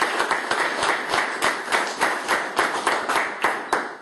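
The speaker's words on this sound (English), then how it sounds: "let's give them a round of applause" An audience applauding at an Ontario government announcement, with dense clapping that keeps a steady pulse of sharp claps throughout and stays fairly close and loud.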